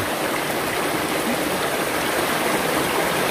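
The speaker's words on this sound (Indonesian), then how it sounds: "Mungkin gemericik air ini bisa kita jadikan sebagai relaksasi" Water trickling and rushing in a stream, a steady, dense hiss of flowing water, close and constant with no voices.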